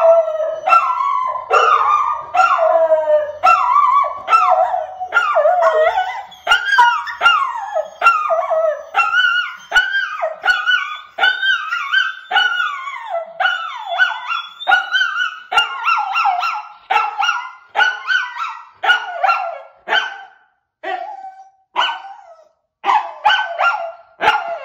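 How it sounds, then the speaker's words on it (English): Dogs howl and bark together at close range, a long run of rising and falling howls broken by sharp yips and barks. "He ran in here and started howling along the way"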